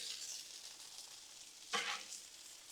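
Steak bites sizzle on a Blackstone griddle with a steady bright hiss, and a short burst of louder spatter comes as pieces are moved or scraped, all close and without talk.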